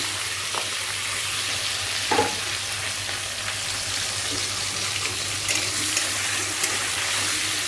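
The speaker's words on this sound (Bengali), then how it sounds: "পেঁয়াজটা লাল করে নিই" Onions frying in oil alongside prawns, a dense steady sizzle close up with a few stirring clinks and scrapes against the pan.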